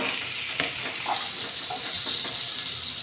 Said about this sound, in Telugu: ఇప్పుడు అన్నీ చెట్టుపట్లు ఆడుతున్నాయి ఇప్పుడు ఉల్లిపాయలు వేసేస్తున్నాం ఉల్లిపాయ టమాటా